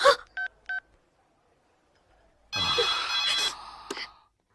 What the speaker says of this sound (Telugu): అన్నకు ఫోన్ చేసి ఇస్తాను